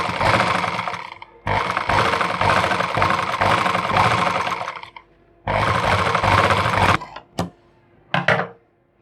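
A motorized sewing machine stitches a salwar seam close by in three sustained whirring runs, followed by a few short stop-start bursts.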